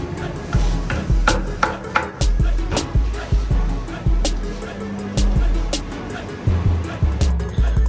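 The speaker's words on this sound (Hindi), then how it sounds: "तो ये भाई साहब व्हील बैलेंसिंग कर रहे हैं।" A workshop wheel-balancing machine works on a Suzuki Mehran's new tyres and rims, whirring in repeated spin-ups with sharp metallic clinks and taps between cycles, close and loud.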